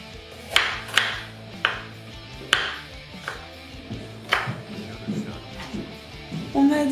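Knife chopping a carrot into small pieces on a cutting board, a series of sharp irregular knocks, close and clear, with a few softer taps toward the end.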